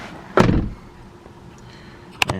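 A 2000 BMW E39 M5 door: a solid thud as it opens or shuts near the start, then a quiet pause and a second sharp click-thump at the end, close by with no talk.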